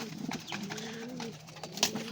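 Pigeons or doves cooing close by in soft, low repeated calls over about two seconds, with a brief chirp near the end and no talking.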